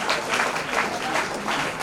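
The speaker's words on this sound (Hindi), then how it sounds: "तालियों के साथ स्वागत करें।" A short burst of audience applause welcomes guests at a national executive committee meeting in Hampi, brisk, close clapping from a gathered crowd.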